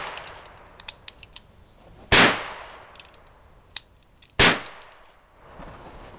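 Two sharp, loud gunshots fired at a target outdoors, about two seconds apart, each with a brief decaying tail, separated by faint clicks and handling noises.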